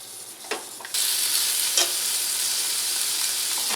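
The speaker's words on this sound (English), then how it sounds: "use my tongs to grab each shrimp and place it into the pan" Honey garlic shrimp in their marinade liquid land in a hot pan and break into a loud, steady sizzle that holds without a break, with a few faint clacks from tongs placing the pieces.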